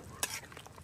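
Fish frying in a pan of hot oil is stirred, giving a short, loud scrape and sizzle burst near the start, then a softer, steady crackle.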